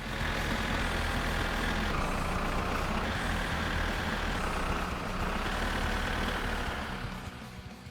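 A tractor engine drives along in the game My Summer Car, a loud, continuous, rough rumble with steady mechanical drone that eases slightly near the end.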